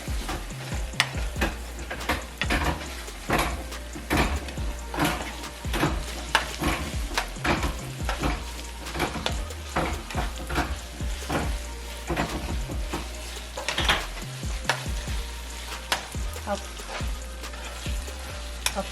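Cooked ground beef sizzles and crackles in a pan while taco seasoning is stirred through, with steady frying and frequent spoon scrapes, close and continuous, no talking.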